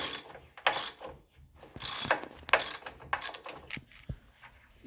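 A hand ratchet removes a control arm bolt on a 2002-2005 Ford Explorer with quick, close clicking bursts in uneven strokes and short pauses between pulls, with no talk.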